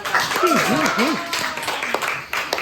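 Students in a classroom clap after a peer-teaching talk, brief scattered applause overlapped by voices and a sung-out cheer.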